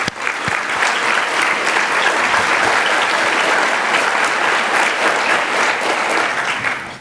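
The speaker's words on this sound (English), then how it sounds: "Let's give everyone a round of applause." Sustained round of applause from a large audience at a sustainability summit lunch plenary, loud and even from start to finish, fading slightly at the very end.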